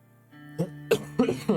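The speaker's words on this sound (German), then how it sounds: "Erst Schluck auf, dann Husten." A streamer coughs several times in short, rough bursts, close to the microphone, over a faint steady background hum.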